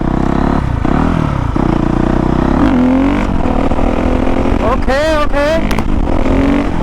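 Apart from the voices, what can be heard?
2019 Honda CRF450R dirt bike revving while riding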